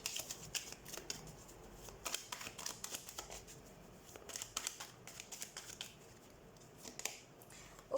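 Tarot cards being shuffled close up, a quiet continuous flutter of riffling and sliding card edges with soft irregular snaps throughout.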